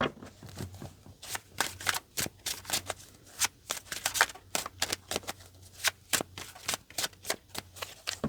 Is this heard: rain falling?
no